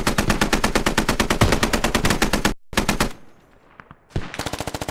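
Rapid automatic weapon fire in the video game Squad, loud rhythmic bursts that break off for a moment, give way to a faint distant tail, then resume in close repeated shots.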